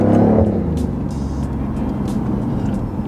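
A BMW i8 supercar engine drones loudly and steadily after a hard downshift, with a stronger surge at the very start that settles into a continuous close-up hum. No one speaks.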